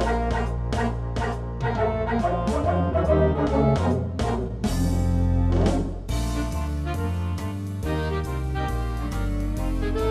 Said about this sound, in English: And those dogs, they're actually singing at the right key.